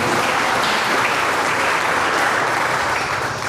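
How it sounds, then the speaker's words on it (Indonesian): A church congregation claps joyfully, a thick, continuous wash of applause from many hands that stays loud and even throughout without any break. "Kasih tepuk tangan sukacita kepada Tuhan"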